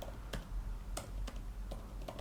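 Keys on a computer keyboard are tapped in short irregular clicks, a handful of distinct strokes close to the microphone over a low steady hum.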